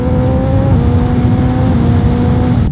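Suzuki GSX-R1000 sport motorcycle engine revs quickly and holds a steady, loud, close drone with clear harmonic tones through the whole stretch, with no talk over it.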